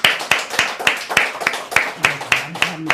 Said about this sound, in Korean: 우리 한번 하나님께 영광의 박수 한번 올리도록 하겠습니다